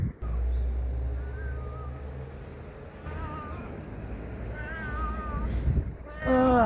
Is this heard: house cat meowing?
yes